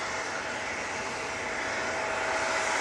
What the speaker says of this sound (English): the equally stunning KLM Embraer is now coming on right in front of us